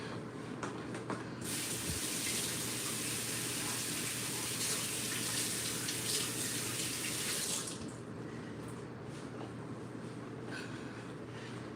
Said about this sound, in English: let me rinse off the spoon